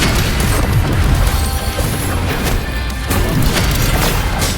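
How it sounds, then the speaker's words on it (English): Mortar blasts and crashing impacts in the video game Wuthering Waves, a loud continuous barrage of booms and smashes layered over game noise, with no speech. "Another mortar thrown at us."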